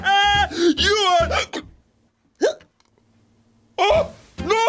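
Someone hiccups several times in sharp, voiced bursts separated by short silences, each catch loud and close.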